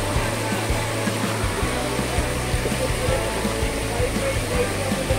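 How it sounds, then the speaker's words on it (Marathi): Motorcycle crossing a river through fast-flowing water, with a steady low engine drone under a loud continuous rush of water, no talk. "फायनली आपण नदी क्रॉस करतोय."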